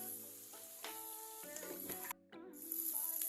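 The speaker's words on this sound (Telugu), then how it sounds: "ఒక 2 మినిట్స్ ఫ్రై చేసుకుందాం." Mutton tilli (spleen) sizzling as it fries in a pan, a steady close hiss with faint stirring scrapes and a brief dip midway.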